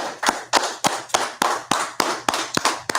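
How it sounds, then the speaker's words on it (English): A small group in a scripture class claps slowly and in unison, about ten sharp, evenly spaced claps ringing out alone in a room. "Let's clap it up. Clap it up."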